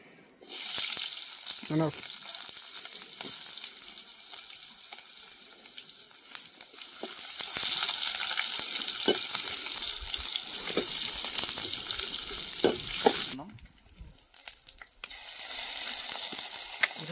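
Onions fry in a pan for a village-style crab curry, producing a dense, bright, steady hiss with scattered scrapes and clicks, close and loud, cutting out briefly near the end before resuming.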